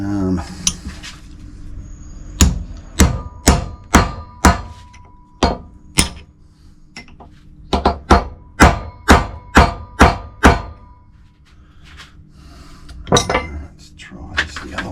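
A hammer strikes a chisel against a stubborn part of a 1970 Dodge Phoenix power steering box, with loud, sharp metallic blows coming in rapid close-up runs separated by brief pauses.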